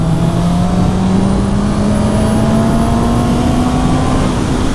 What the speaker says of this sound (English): Oh, these four-cylinder engines. This is the engine that just keeps on giving.